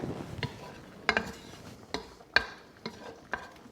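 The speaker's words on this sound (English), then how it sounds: "And then I'm going to add the cooked mushrooms that we did earlier" Cooked mushrooms go into a simmering coq au vin, with soft stirring, gentle bubbling and a few light clicks and scrapes of a spoon against the pot at close range.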